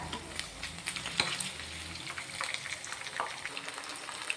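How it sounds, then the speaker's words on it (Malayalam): Chicken pieces for chicken kondattam deep-fry in hot oil, giving a faint, continuous bubbling sizzle with a few soft clinks of a utensil. No voices are heard. "ചിക്കൻ ഇവിടെ ഇപ്പം നന്നായിട്ട് ഫ്രൈ ആയി ഇനി നമുക്കിത് എണ്ണയിൽ നിന്നും കോരി മാറ്റാം"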